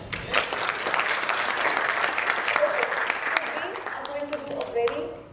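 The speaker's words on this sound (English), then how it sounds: "Can we clap?" An audience at a communication skills boot camp breaks into sustained applause, dense clapping that holds steady for several seconds before thinning out, with a few voices mixed in.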